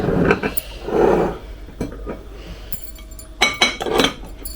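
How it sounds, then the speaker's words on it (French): A lid goes back onto a cooking pot while cheese melts inside it, bringing a few close clinks and knocks of metal and glass among soft kitchen handling noises. "Alors, je remets le couvercle."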